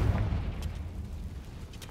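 A Confringo fire spell explodes in the Hogwarts Legacy game, heard as a deep, rumbling boom that keeps rolling steadily for about two seconds with no separate sharp hits.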